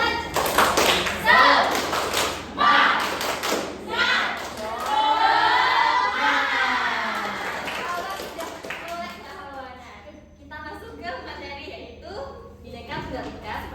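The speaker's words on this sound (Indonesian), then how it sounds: "Kita tepuk semangat dulu ya. Tepuk semangat." Third-grade children in a classroom clap hands together in a quick rhythmic spirit clap, loud and close, with a chanting group voice and a teacher speaking over the claps.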